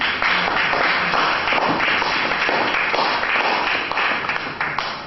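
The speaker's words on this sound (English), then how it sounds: "let's give them a round of applause" Audience at a Lagos State inclusive health policy meeting breaking into sustained applause, dense steady clapping filling the room for several seconds before slightly thinning.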